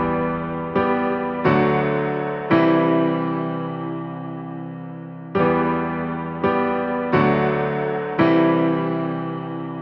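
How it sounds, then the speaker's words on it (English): Grand piano from Addictive Keys playing sustained chords, about eight struck in two repeating phrases, each ringing out and decaying slowly, close and clean with no voices. "I just pulled up a grand piano from Addictive Keys and laid down these chords"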